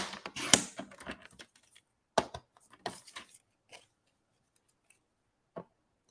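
Scissors snipping paper for handmade card making, a flurry of quick crisp cuts followed by a few isolated snips spaced out and fading toward the end, close and quiet with no talk.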